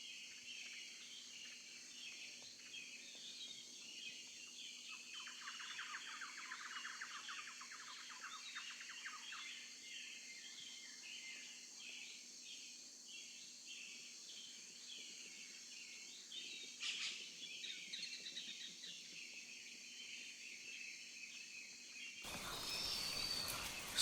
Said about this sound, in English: this little noisy bird gave me chance to photograph it